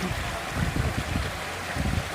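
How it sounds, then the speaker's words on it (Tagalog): Flowing stream water beside Yoshino cherry blossom trees in Japan: a steady, fairly quiet broadband rush and gurgle with no talk. "Napakasarap pakinggan ng agos ng tubig."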